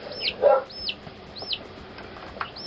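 Chickens cluck and squawk nearby, with several rising calls repeating at intervals over a quiet background.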